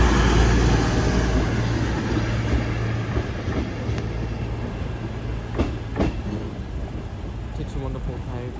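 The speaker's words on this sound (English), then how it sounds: "TT1-115 Advanced West Coast service from London Euston for Wrexham General." An Avanti West Coast passenger train from London Euston to Wrexham General rumbles past a level crossing, loud at first and then fading, with a few wheel clicks and knocks.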